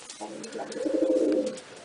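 A pigeon coos close by, a low throaty rolling call that swells and fades over a couple of seconds in a quiet space.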